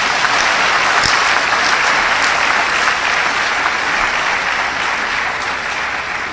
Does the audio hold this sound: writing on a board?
no